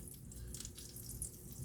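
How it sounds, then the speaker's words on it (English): Butter bubbles and foams in a hot pan before French toast is cooked, giving a steady close-up crackling sizzle with soft popping throughout, no talking. "you can hear the butter bubbling. It's getting nice and foamy"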